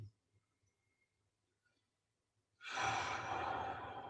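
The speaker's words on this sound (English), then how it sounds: "You can continue with that diaphragmatic breathing, that deep breathing we were doing." A deep diaphragmatic breath, drawn in during a gentle mobility and stretching session, comes as one long, loud, breathy rush that starts after a near-silent stretch and keeps going to the end.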